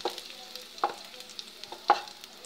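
Raisins fry in coconut oil with a faint, quiet sizzle, broken by a few sharp spoon-against-pan taps and stirring scrapes spaced unevenly, close by.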